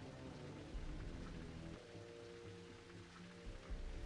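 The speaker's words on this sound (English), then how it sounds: "Acid rain." Acid rain spell effect in the video game Ultima IX, a steady dense hiss of falling rain with low rumbling underneath, continuous and fairly loud throughout with no talking.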